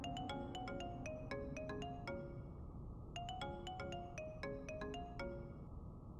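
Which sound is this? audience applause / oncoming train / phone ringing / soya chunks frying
phone ringing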